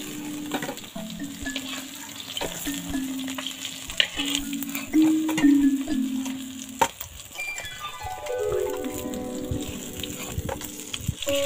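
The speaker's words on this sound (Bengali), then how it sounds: "এইভাবে একে একে সব মাছ ভেজে নেব।" Bele fish frying one by one in hot oil for a curry, a steady bubbling sizzle with occasional clinks and scrapes of a utensil against the pan, fairly soft and close.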